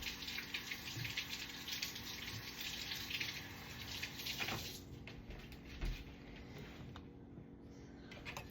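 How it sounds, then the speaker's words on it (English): Tomatoes being rinsed for a simple seasoned salad under a running kitchen tap give a steady, close splashing water flow that fades out partway through, followed by a few faint clinks and handling sounds. "I'm going to rinse the last of the tomatoes."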